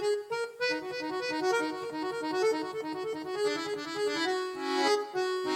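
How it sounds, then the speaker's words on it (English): An accordion plays a bouncy tune, reedy sustained chords pulsing in a steady rhythm under a bright melody line, full and close, with no voices. "It's an accordion."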